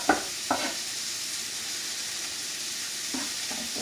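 Meat searing in a hot pan gives off a steady, even sizzle and frying hiss, with a few soft clinks or stirring knocks near the start and again toward the end.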